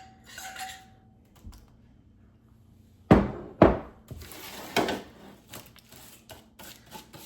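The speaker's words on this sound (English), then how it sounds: "we're just gonna lay these on our pan, and we're gonna spread them out nice and evenly so that they're ready to bake" Pecans tipped and spread across a baking pan, with a few sharp rattling clatters of nuts hitting metal, followed by lighter scattered taps and shuffles, close and otherwise quiet.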